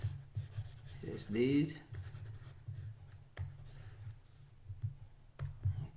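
Rubbing and scratching as writing is erased from a board during a calculus lesson, heard in short bursts while someone speaks briefly nearby.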